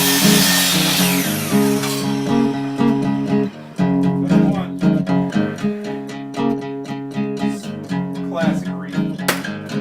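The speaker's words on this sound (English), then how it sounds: "Coming up next, Travis cuts more trim and nails it up." A power saw cuts through wood trim with bursts of high whining buzz and rhythmic cutting strokes, loud and close, over background music with no talk.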